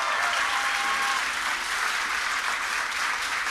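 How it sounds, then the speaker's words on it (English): An audience at the Hal-Con 2012 convention Q&A claps with sustained, dense applause that holds at an even level from start to finish. "Let's give a round of applause for R.A. and Geno Salvatore"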